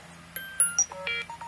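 An iPad text tone preview plays through the speaker: a short sequence of bright, high electronic chimes and pinging notes in quick succession, fairly quiet and alone with a low steady hum beneath.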